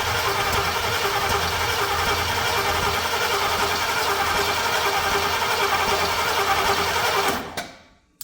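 A Volvo C30 engine cranks steadily without catching, a loud, continuous mechanical churn up close that stops abruptly near the end.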